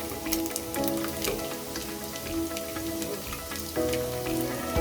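Beef pieces fry in hot oil with a close, steady crackling sizzle and scattered popping spatters throughout.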